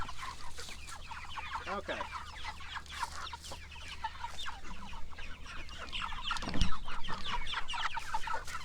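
Pastured poultry flock clucking and chattering steadily close by, busy overlapping calls with a louder burst toward the end, and a voice briefly speaking underneath.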